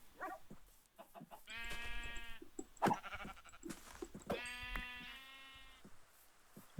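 Sheep in a video game bleat twice in long, wavering calls, separated by scattered soft clicks and faint game noises, fairly quiet overall.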